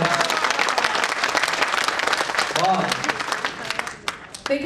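Audience applause at a Hindi comedy poetry show, a loud, dense burst of clapping that fades toward the end as a voice begins speaking.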